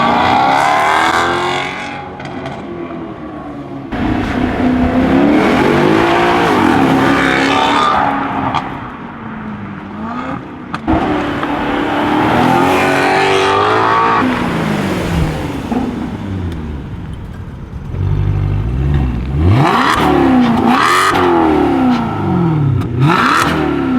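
Maserati engine with a muffler-delete exhaust revving hard, loud and close, with repeated rising and falling sweeps and a raspy, blaring exhaust note throughout.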